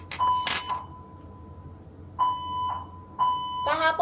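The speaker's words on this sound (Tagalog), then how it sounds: "kasi fire alarm yan eh" Fire alarm sounding inside a building, repeated electronic beeping tones in short bursts with pauses between, loud and near.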